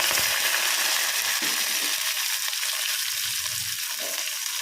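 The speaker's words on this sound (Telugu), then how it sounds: "నూనెలో మంచిగా ఫ్రై చేసుకోవాలి" Cumin seeds, green chili and curry leaves frying in hot oil, giving a steady, loud, close sizzle with a faint stirring scrape beneath it and no talking.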